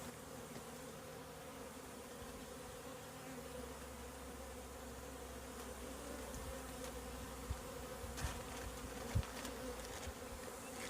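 Honeybees buzzing around nucs being installed into hives, a dense continuous hum close by, with a low drone joining partway and a few faint knocks and taps near the end.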